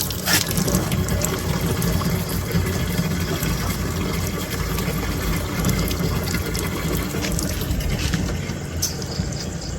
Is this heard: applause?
no